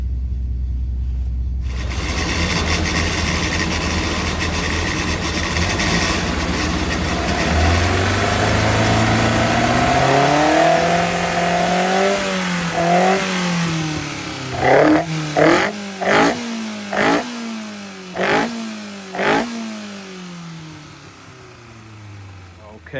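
An offset engine runs on a dyno, idling at first, then climbing through a long steady rev before dropping into a series of sharp, separate throttle blips that rise and fall in quick succession.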